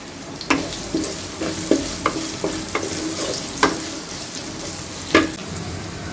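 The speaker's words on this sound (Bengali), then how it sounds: "একটু পাঁচফোড়ন দিয়ে দিলাম।" Panch phoron spices sizzling in hot oil with onion, garlic and green chili, steady frying hiss broken by a series of sharp stirring scrapes and clinks, close and fairly loud, no voices.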